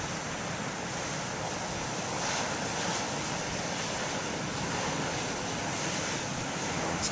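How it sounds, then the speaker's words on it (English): Ocean surf breaking on a shore in a steady, broad roar of waves with wind buffeting the microphone, continuous and fairly distant. "I stop videoing, then we start getting 40-foot waves now."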